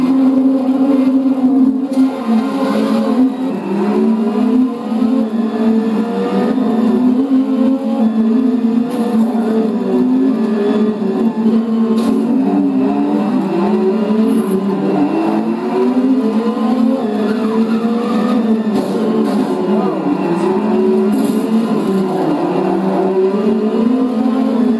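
Race cars roar continuously in the racing video game Grid, loud engine drones rising and falling with repeated gear-shift revving sweeps, a dense unbroken engine sound with no talk.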